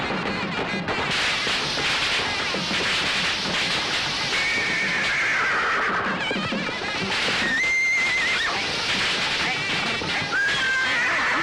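A horse whinnies in a rural Tamil comedy scene, its long wavering calls rising repeatedly over dense background noise, hoof clatter and scattered voices.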